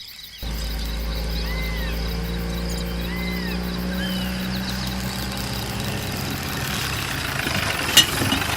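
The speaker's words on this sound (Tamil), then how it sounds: "சார், மருந்து வண்டி வந்திருக்கு" A van carrying medicine sits with its engine idling, a steady low rumble that starts abruptly and holds constant throughout, close by, with a brief sharp click near the end.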